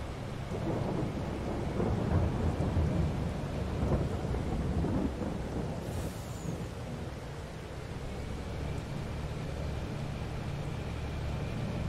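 Steady rain with low rumbling thunder in the Farming Simulator 22 game on the Elk Mountain map, a continuous broadband wash that swells slightly early on and holds at a constant level throughout, with no voices.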